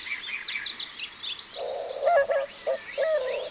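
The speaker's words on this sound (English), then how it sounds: "You probably heard their song, which is described as the inquiry" Soft, low cooing notes from a white-winged dove, repeated in a short phrase, over thin chirps and twitters of other birds in the background.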